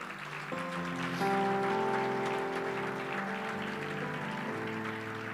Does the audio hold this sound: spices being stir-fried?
no